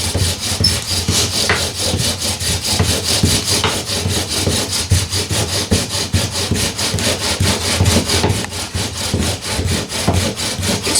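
Wooden bow drill spindle spinning against a wooden board, a steady rapid back-and-forth rasping friction that pulses with each bow stroke, close and loud with no talking.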